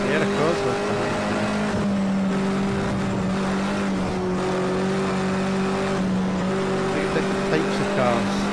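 Race cars lap the Nurburgring 24 hours in the Project Cars 2 video game, engines droning and rising and falling in pitch, with a closer engine running under other cars and a voice talking over the racket.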